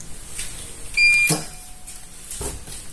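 A GoodWe GW8KN-ET hybrid solar inverter starting up from a Pylontech battery gives a short high electronic beep once, followed by a soft clunk and a fainter tone, in an otherwise quiet room.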